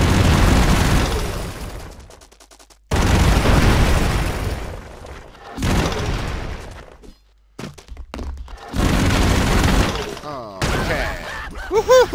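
Gunfire and explosions in the video game Expendabros, loud repeated bursts and booms in several dense blasts separated by brief silences, with a voice talking over parts of it.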